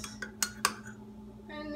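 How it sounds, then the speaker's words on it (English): A teaspoon stirs three spoonfuls of sugar into a cup of tea, ringing against the cup in a few sharp, close clinks, followed by quieter scraping swirls. "And I'm just gonna stir this."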